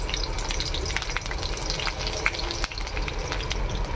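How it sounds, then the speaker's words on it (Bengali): Steady crackling sizzle of onion and green chili frying in hot oil in a kadai, continuous and close, with occasional clicks of stirring. "কড়াইয়ে তেল গরম হয়ে গেছে তেলের উপরে দিয়ে দিচ্ছি কাঁচা লঙ্কার পেঁয়াজ"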